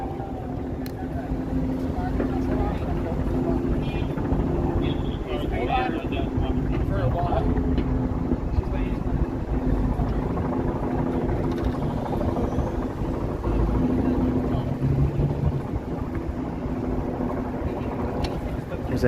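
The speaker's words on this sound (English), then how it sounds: "There's a helicopter flying overhead as well that I can hear." A helicopter rumbles overhead amid downtown Toronto street noise on an evening and wind buffeting, a constant low drone with passing traffic underneath.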